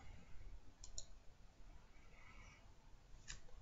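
A pair of faint, crisp computer mouse clicks, one early and one near the end, over a quiet background.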